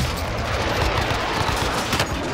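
Rapid, dense gunfire from Call of Duty Warzone in a Plunder match, a continuous loud rattle of automatic shots filling the whole moment with no pauses.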